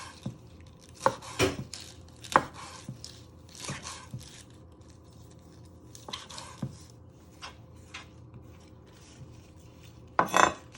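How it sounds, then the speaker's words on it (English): A sharp knife slices through spinach on a cutting board for an egg ramen soup, giving a string of crisp, irregular chops and thuds, some clustered, one louder burst near the end, with no talking. "So get your sharp knife and just start slicing it into little slices."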